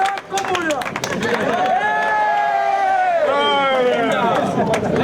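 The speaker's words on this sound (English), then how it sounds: "We're going to clap for you." A crowd at a punk concert claps and cheers, with loud whoops and shouted voices riding over scattered clapping and general hubbub for several seconds.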